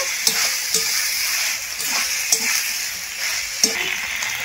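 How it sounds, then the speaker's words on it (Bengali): Boiled green jackfruit pieces sizzle and fry with spice paste in a pan, a steady close frying hiss broken by several sharp scrapes of stirring, with no voices. "এঁচড়গুলো দিয়ে মশলার সঙ্গে ভালো করে কষিয়ে নেব"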